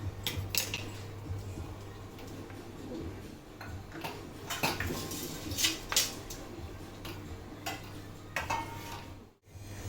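Half a block of paneer being grated by hand in a home kitchen, a run of fast scraping strokes with sharp clicking taps, close and fairly quiet, over a steady low hum and no voices.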